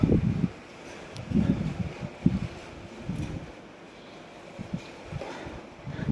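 Wind buffets the microphone in irregular low gusts, rising and falling across the clip with a faint rustle behind it.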